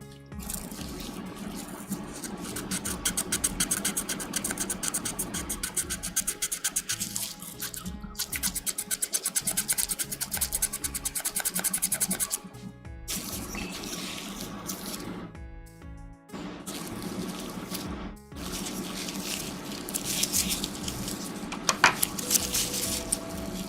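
Sandpaper is rubbed rapidly back and forth over a super-glued Gunpla model part, producing a dense, continuous scratchy rasp with short pauses between bursts of strokes, close and fairly loud.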